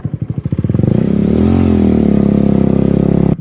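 Off-road motorcycle on a trail in Kashmir, heard close and loud: a rapid, lumpy engine putter that rises into a sustained revving drone, then cuts off abruptly near the end.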